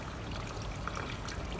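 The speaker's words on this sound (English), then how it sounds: "A little bit of water over it." Water trickles steadily over investment material in a dental flask while acrylic partial dentures are being processed, a soft continuous low-level flow with no talking.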